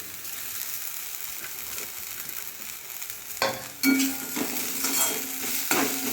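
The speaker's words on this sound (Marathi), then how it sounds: "कोथिंबीर दोन मिनिट परतून घेऊया" Coriander leaves and roasted onion are sautéed in a pan for a tomato chutney, with a steady sizzle under scraping strokes of a spatula. The frying grows louder and brighter partway through, and no one talks.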